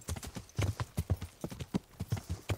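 Horse hooves gallop at a steady, quick clip-clop rhythm in the medieval game Kingdom Come: Deliverance, loud and close with repeated evenly spaced thuds throughout.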